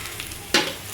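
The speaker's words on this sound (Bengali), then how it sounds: "ভেন্ডিগুলো একটু লাল লাল করে ভেজে নিই।" Okra frying in a pan gives a close, steady sizzle, broken halfway by one sharp scrape of a spoon stirring the pieces.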